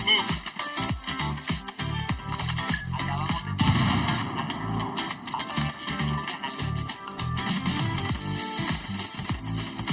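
Rapid gunfire in the tactical shooter Ghost Recon Wildlands, dense overlapping bursts and booms filling the whole stretch, loud and continuous, with game sounds layered underneath.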